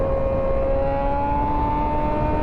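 Rebuilt 2006–2007 Suzuki GSX-R 600 motorcycle engine under way while riding, a steady loud whining drone with a sustained tonal hum and rushing wind noise, no voices.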